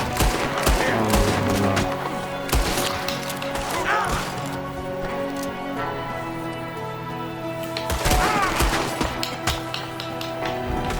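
Gunfire in the Red Dead Redemption 2 video game, a dense run of sharp shots and impacts over layered game music and ambience, loud and continuous throughout.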